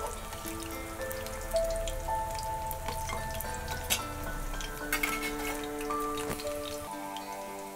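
Chicken vadalu fry in oil over a medium flame, crackling and popping steadily with sharp spattering bursts, close and continuous beneath faint tonal background sounds.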